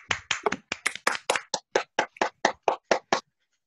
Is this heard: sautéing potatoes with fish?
no